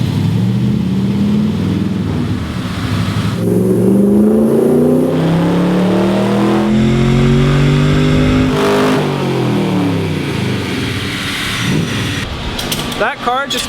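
A Corvette with a 350 small block runs on dyno rollers, its engine note climbing through repeated rising pulls and then dropping off. The sound is loud and close, with a voice talking over it.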